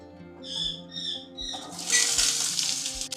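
Oil hitting a hot pan and breaking into a bright hiss and sizzle while cooking potatoes for Bengali lal alur dom, preceded by a few short squeaky clinks, moderately loud and close.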